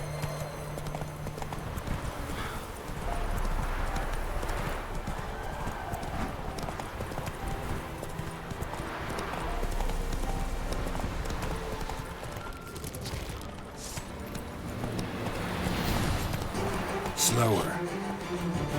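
Roach the horse galloping in The Witcher 3, a steady rhythmic clip-clop of hooves running on and on at close range, with a brief whinny near the end and a voice talking over it.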